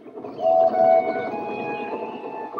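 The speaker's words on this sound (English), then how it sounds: "Donald set off with the breakdown train, and Henry followed" A breakdown train rolls along a railway line, a steady rumbling drone with a sustained whistle-like tone over it, fairly close and continuous for a couple of seconds.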